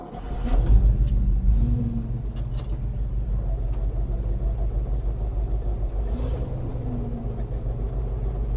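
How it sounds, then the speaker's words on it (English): A former Soviet rocket launcher truck, left standing for five years, cranks and fires with a loud burst, then settles into a deep, steady idling rumble close by. "let's start the truck."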